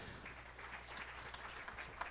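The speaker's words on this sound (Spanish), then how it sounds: "Dale fuerte palmas al Señor." A church congregation claps their hands together during a worship service, a steady dense patter of applause filling the room at moderate level without talk.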